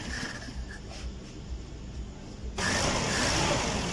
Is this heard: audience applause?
no